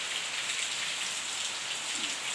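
A short rain shower gives a steady, even patter and hiss with no voices.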